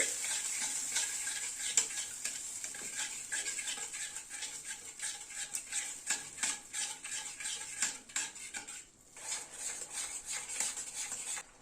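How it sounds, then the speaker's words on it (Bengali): A spoon stirs whisked yogurt with spice mix in a pan over a low gas flame, scraping and clinking against the metal in a steady rhythm over a soft sizzle, close and continuous with no talk. "দইটা এই মিনিট খানেক মতো একটু নাড়লাম।"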